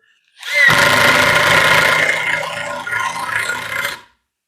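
An older Bosch Professional non-impact screwdriver with a PZ bit drives a self-tapping drywall screw, giving one loud, continuous whirring and grinding run of about three and a half seconds, close up with no voices.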